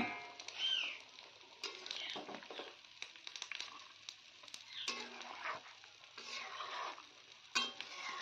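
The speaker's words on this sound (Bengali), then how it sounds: "আর দেখো জল দেওয়ার সঙ্গে সঙ্গে ঝোলটা ফুটছে" Rohu fish curry broth with potato and eggplant bubbles quietly in a home kitchen pan just after water is added, a faint, soft simmering hiss broken by scattered light clinks and stirring taps.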